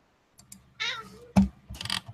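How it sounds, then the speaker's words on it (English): A house cat meows several times nearby, short plaintive cries separated by soft clicks and a thump, heard alone without talk. "I'm so sorry about this cat."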